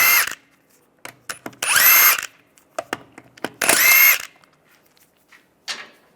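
Power tool with a 17mm socket spinning car lug nuts off a 1998-2010 Volkswagen Beetle wheel, loud whirring bursts of about a second each, separated by clanks and handling clicks.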